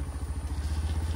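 A Bajaj 110cc motorcycle engine runs close up with a steady low pulsing throb and a slight clatter.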